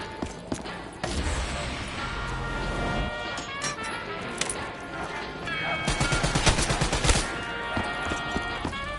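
Machine gun fire in the Black Ops 3 Zombies map Kino der Toten. Rapid bursts of shots crackle over busy game noise, growing denser toward the end.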